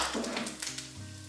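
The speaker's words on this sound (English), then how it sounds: "Ow, this egg is popping." An egg fries in a hot pan with a dense, close sizzle, small pops and crackles scattered through the hiss over a low background hum.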